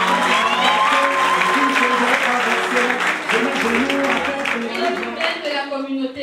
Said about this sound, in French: Je vous prie de l'applaudir une fois de plus.